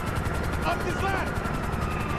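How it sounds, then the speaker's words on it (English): A helicopter hovers overhead during a shootout in the video game GTA V, its rotor thumping in a steady, rapid chop over a loud, continuous engine drone. "We ain't going nowhere with that chopper on us"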